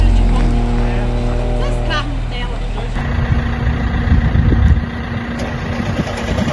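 A Volkswagen Kombi van's engine running at Interlagos: a steady low mechanical hum and rumble, with people talking over it nearby.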